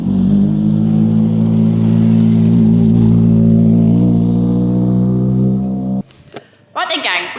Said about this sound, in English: we've just managed to catch the R1 cars coming off the super stage, and they're heading back into their service area